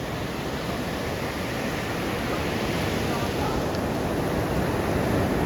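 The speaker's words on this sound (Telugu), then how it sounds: "ఫుల్ వాటర్ అయితే ఎంత స్పీడ్లో వస్తున్నాయో" Sea waves rush in at Vizag beach, a dense, continuous roar of surf that stays loud and steady and swells slightly toward the end.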